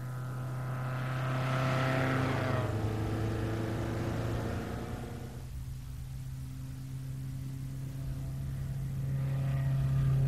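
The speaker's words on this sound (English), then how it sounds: "This car is a 1962 Lotus Elite. It has a 1216 Coventry Climax engine" A 1962 Lotus Elite with a 1216 cc Coventry Climax engine drives by, its steady engine drone swelling, easing off, then rising again, with no talk over it.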